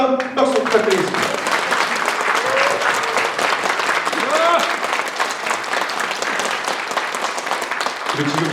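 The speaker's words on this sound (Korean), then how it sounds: "다시 한번 큰 박수 부탁드리겠습니다" Sustained applause from an audience at a National Assembly candidacy announcement in Sejong, a dense steady wash of clapping lasting throughout, with a brief voice and other sounds surfacing near the start and end.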